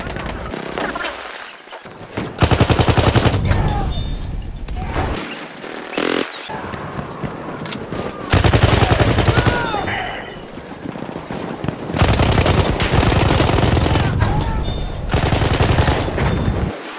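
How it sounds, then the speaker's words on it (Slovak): Video game gunfire in long, loud bursts of rapid automatic shots, several sustained volleys separated by brief pauses, close and dominant, with a voice speaking briefly between them. "A som počul, že tam strieľa."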